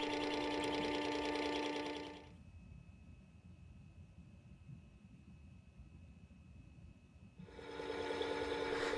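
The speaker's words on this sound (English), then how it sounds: "If you aren't familiar with the Worksharp 3000 and don't really care for using stones to sharpen your blades and irons, I highly recommend it." A Work Sharp 3000 sharpener hones a Stanley 93 shoulder plane iron with a steady, high motor whine. It drops to a softer grinding rasp for several seconds, then the whine returns, all close by with no talking.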